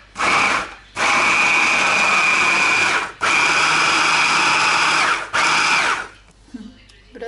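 A kitchen blender whirs loudly at close range in three long bursts, each stopping abruptly, with short pauses between them and a quiet stretch at the end.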